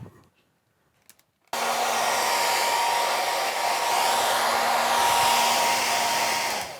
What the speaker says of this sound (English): So I'm going to get my blow dryer here and dry this back now.